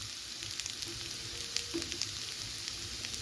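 Sesame seed paste frying in oil in a pan, a soft steady sizzle with occasional faint pops and stirring clicks, no talking.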